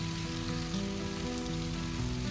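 Steady sizzling of chicken sautéing with onion and tomato in a hot pan, a continuous close hiss and crackle without pauses or talk.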